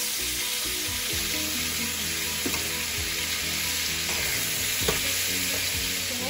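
Chopped onion and tomato fry in olive oil with a steady, close sizzle, broken by a few soft stirring scrapes and clinks of a utensil, and no voices over it.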